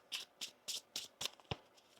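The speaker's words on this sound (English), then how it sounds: "One more shuffle here." Tarot cards being shuffled by hand, a run of six or seven crisp riffling bursts in steady rhythm, close and fairly quiet, with no voices.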